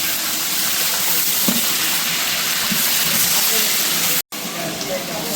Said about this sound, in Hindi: अब यहाँ पे अच्छे से तेल हो गया गरम। अब छोड़ेंगे प्याज।